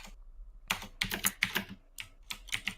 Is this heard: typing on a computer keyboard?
yes